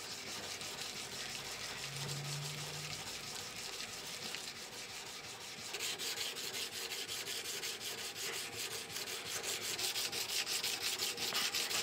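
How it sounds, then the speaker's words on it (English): Steady abrasive rubbing of a hand sanding stick against a steel kiridashi marking knife blade, a continuous scratchy rasp that grows a little louder and harsher partway through, with no voices. "every time I get to use one of these hand sanding sticks, it is just a joy"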